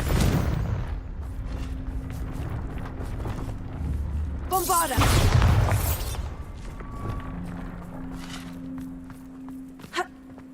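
Confringo, a fire spell cast in the video game Hogwarts Legacy, bursts with a loud roaring blast midway, preceded by footsteps and ambient game sound, with a character voice heard around it.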